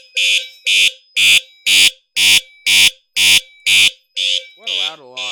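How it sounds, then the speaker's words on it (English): A new alarm system blares nearby in loud, evenly spaced electronic beeps, roughly two per second. Toward the end a voice speaks over the final tones. "What a loud alarm."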